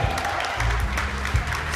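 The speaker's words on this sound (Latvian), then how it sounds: "skaļi aplausi" A brief burst of audience clapping at a senior dance competition in Jaunmārupe, a dense patter of many hands lasting under two seconds.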